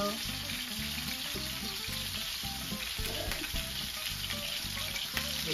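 Meat braciole sears in a hot pan with a steady, close sizzle and frying crackle, a continuous fat hiss with faint clinks and stirring underneath.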